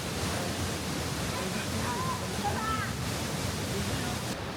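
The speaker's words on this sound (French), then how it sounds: "On vous laisse sur cette belle cascade en contre-jour." A backlit waterfall pours over clear water, sand and pebbles, giving a steady broadband rush that stays even throughout, with faint bird-like chirps briefly above it.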